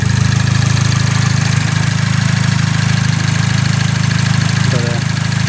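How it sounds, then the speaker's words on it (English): A Chevrolet Cobalt SS engine idles steadily and close up, a constant mid-low hum under a fine rapid ticking from the lifters and high-pressure fuel pump. "I haven't noticed any unusual noises, just your normal lifter noise and your high pressure fuel pump noise"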